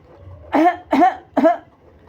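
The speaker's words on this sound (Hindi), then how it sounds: "तो ऐसे ही भगवान ने भी थोड़ा खांस दिया" Three short, dry coughs in quick succession, evenly spaced and fairly close, with no talking around them.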